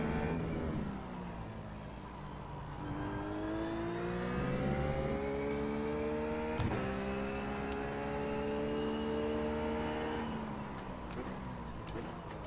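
A RUF racing car in the iRacing game laps Suzuka with a steady engine drone that rises in pitch as it accelerates through the gears, one quick shift blip midway, then revs climbing again before easing off, loud and continuous with no talk.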